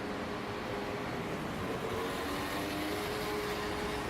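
Paris metro train at Stalingrad station in the 18th arrondissement, a steady continuous rumble with a faint high whine running through it, heard from nearby under the elevated line with no speech.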